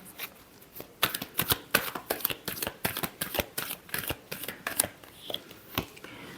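Tarot cards are shuffled by hand, a quick run of crisp riffling snaps and slaps, close and fairly loud, with no voices.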